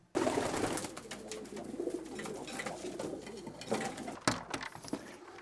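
Pigeons coo softly and repeatedly nearby, with rustling and shuffling noises in the background.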